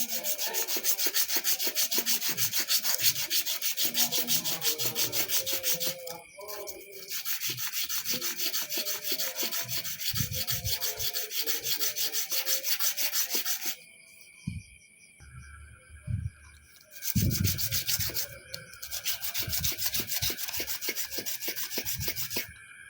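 A red dot sight mount is sanded by hand, giving repeated rapid scratchy rubbing strokes, loud and close, broken by a couple of brief pauses and a few light knocks.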